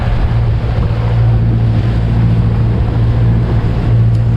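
Wind and ocean swells sweep around a sailboat at sea between Chub Cay and Nassau in a loud, steady rush with a low rumble and heavy wind buffeting on the microphone, and no voices.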